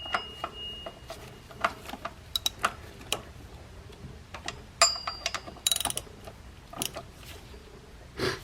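Ratchet wrench tightening the power steering pump bolts on a 3.5L GM Chevrolet Impala, a series of quick mechanical clicking bursts with short pauses between them, close and fairly clear with no talking.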